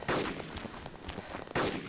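Two sharp gunshots ring out in the ARMA 2 DayZ Mod game, one at the start and one near the end. Both are faint and distant, with quieter rumbling between them.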